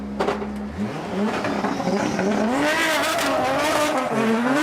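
A BMW drift car on a qualifying run at a Drift Masters round in Finland screams close by, its engine revving up and down continuously while the tires squeal throughout.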